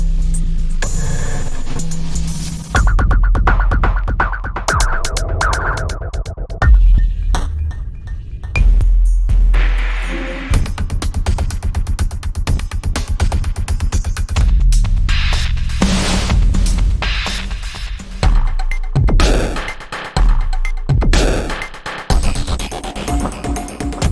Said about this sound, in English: each one of these keys has a full loop that consists of kicks and snares and hi-hats and effects